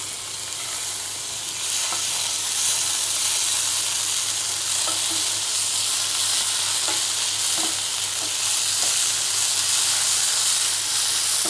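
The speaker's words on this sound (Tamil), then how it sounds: "ஒரு ஸ்பூன் நான் இஞ்சி பூண்டு பேஸ்ட் சேர்த்துக்கிறேன்" Onions with a spoonful of ginger garlic paste frying steadily in a pan for a Tamil spicy egg masala curry, a continuous close sizzle and hiss with occasional stirring scrapes and no talking.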